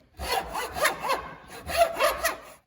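Handsaw cutting down the handle of an Old Hickory knife, a steady back-and-forth rasp in two bursts of strokes with a brief pause between, close and fairly loud with no talking.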